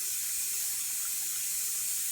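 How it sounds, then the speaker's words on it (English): Warm water poured onto couscous grains that have been mixed with vegetable oil, heard as a steady, close hiss of running water that holds for about two seconds with no talking. "we're gonna put some warm water."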